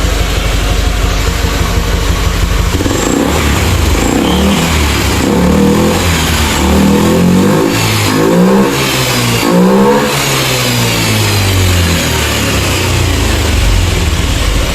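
A Honda Beat ESP scooter with a sputtering, hard-starting fault revs repeatedly in a loud, close run of rising and falling engine swells, each throttle blip climbing and dropping across roughly fifteen seconds with no talk.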